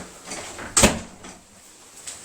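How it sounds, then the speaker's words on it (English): A door opening indoors, a sharp knock or latch clack near the middle followed by fainter rustling and a small later click. "so that's the door going open"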